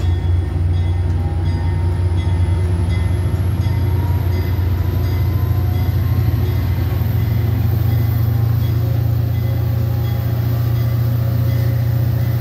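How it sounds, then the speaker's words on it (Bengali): A passenger train pulls out of a station near Chicago, with a loud, steady rumble of wheels and cars and a rising high-pitched squeal running over the whole stretch. "এই ট্রেনটি ছেড়ে যাচ্ছে।"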